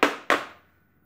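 Two sharp knocks land close together as a cake mold filled with green velvet cake batter is tapped on a counter, each thud fading quickly into silence.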